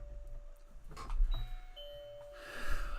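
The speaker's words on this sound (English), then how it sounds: "That little football is the doorbell button." An electronic doorbell, pressed through a small football-shaped button, chimes several clear tones in sequence, fairly close and alone, with a brief rustle between rings.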